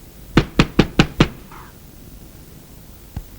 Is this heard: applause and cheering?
no